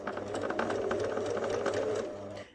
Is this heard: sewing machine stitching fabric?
yes